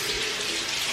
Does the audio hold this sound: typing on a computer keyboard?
no